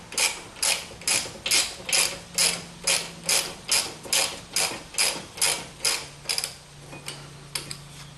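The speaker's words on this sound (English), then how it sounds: "there seems to be a lot more room to work the ratchet here." A hand ratchet turns rear brake bracket bolts on a 2015 Jeep Wrangler, giving about a dozen close, crisp clicking strokes in a steady rhythm that weaken and slow toward the end.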